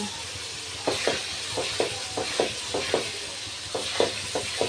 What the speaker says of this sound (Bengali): মশলাটাকে আমি ভালোভাবে কষিয়ে নিচ্ছি